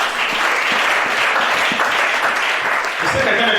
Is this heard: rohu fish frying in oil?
no